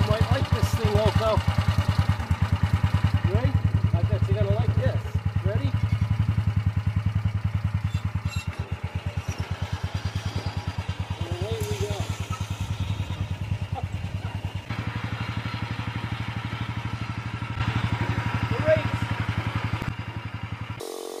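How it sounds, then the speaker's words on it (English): A 1970-72 Sears Compact 7 lawn tractor engine runs after a cold start without choke, a steady, rapid low chugging putter that holds throughout, with faint voices and small clatters over it. "from a cold start, without the choke on, let's try it"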